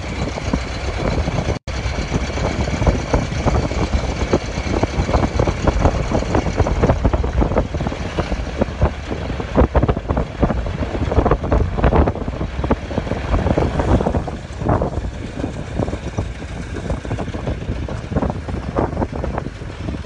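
The ride inside the Virginia & Truckee motor car 24 replica, a vintage-style rail motor car driven off the rails, brings a steady engine drone mixed with rushing wind. The noise stays loud and continuous, with one brief dropout near the start.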